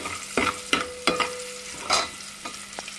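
Green chillies frying in a pan, with a steady sizzle broken by several sharp stirring scrapes and spatters at uneven intervals, close up and without talk.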